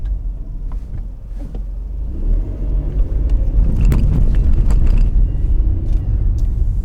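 A car rolls through narrow back lanes in Fujiyoshida near the Fuji Five Lakes in Japan, its low engine rumble and road noise steady and close, swelling slightly midway, with no voices.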